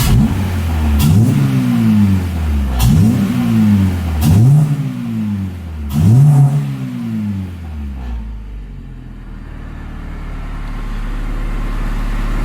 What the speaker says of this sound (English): The throttle response already is just, wow. I mean, you can hear it, and it revs really quick.